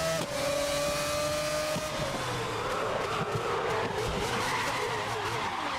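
Race car in GRID (2019) skidding and losing control on a track, a steady loud engine drone with tire scrub and a falling pitch as it slides, continuous throughout.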